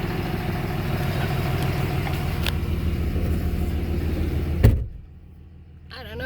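Steady engine rumble of an RV cruising on the road, loud and continuous from inside the cabin, with a brief thump near the end before the drone drops away and rises again.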